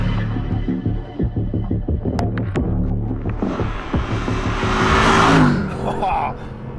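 Mercedes SLS AMG Black Series engine throbs and revs close by, rising to a louder roaring pass near the end, with a few sharp mechanical clicks early on.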